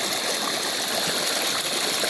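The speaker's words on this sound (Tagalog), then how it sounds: "Tubig mga guys." Laya River at Candulawan, Talisay City, Cebu, flowing as a steady, dense rush of water that stays close and constant with no voices.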